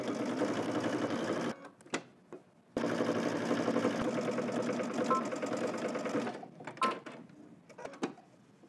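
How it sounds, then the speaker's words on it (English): A sewing machine stitching a seam with a 5/8 inch allowance, close rapid mechanical whirring in two long runs separated by a short pause and pivot, ending in brief stops and clicks. "now I'm going to head to the machine."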